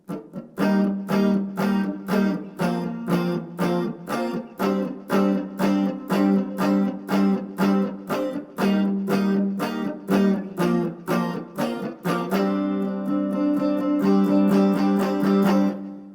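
Pre-chorus chords from a song on electric guitar: repeated short, evenly spaced strummed stabs, with a few longer held chords, swelling into a busier sustained build-up near the finish, played alone up close.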